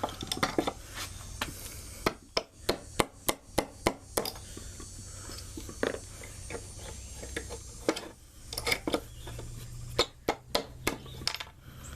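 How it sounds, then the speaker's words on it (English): Sharp metallic clinks and taps ring out in irregular bursts as a hammer pulls nails from a wooden frame, several quick knocks of metal on wood and nails, fairly quiet with pauses between. "Go and pop them out with my hammer"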